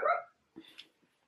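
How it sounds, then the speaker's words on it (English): A pet dog lets out one sharp bark followed by a couple of fainter, softer yelps, quiet and fairly close in an otherwise silent room. "That dog of mine is wild."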